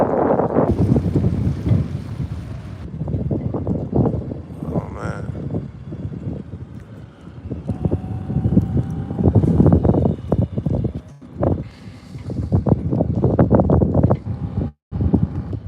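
Open ocean on a lobster diving outing, with strong wind roaring across the microphone near a boat. Gusts and sea wash fill the whole stretch, loud and close, with a brief voice in the middle.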